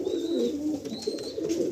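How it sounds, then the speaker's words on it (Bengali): Pigeons coo softly in a loft among Kamagar and other fancy breeds, giving repeated low throaty rolling calls with a few faint higher chirps in the background and no speech. "পায়রাগুলো কত অ্যাক্টিভ দেখুন"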